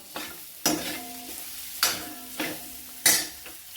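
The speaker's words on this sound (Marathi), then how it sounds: "आता आपण शिमला मिरची टाकून घ्यायची शिमला मिरची पण चांगली परतून घ्यायची" Capsicum being sautéed in a spiced oil tempering, with a spatula scraping the pan in sharp strokes roughly every second over a continuous soft sizzle, no voices.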